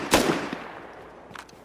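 Gunfire in the console version of the survival game Rust: one sharp, loud shot up front, then a couple of fainter, more distant pops.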